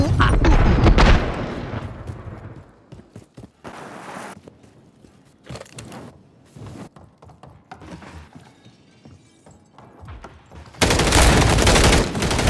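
Video game gunfire erupts in loud, dense bursts at the start and again near the end, with scattered sharper shots and quieter clatter in between.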